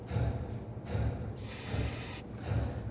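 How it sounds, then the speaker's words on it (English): Spray solvent hisses from an aerosol can onto a clean rag beside a Nissan Frontier 4.0L V6 engine, one sustained close burst of about a second amid softer rhythmic rubbing noises. "We're going to use some spray solvent on a rag,"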